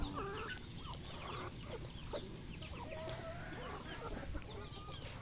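Chickens and chicks in a backyard during rainy weather cluck and peep continuously, with several birds calling over a steady background hiss, near and moderately loud throughout.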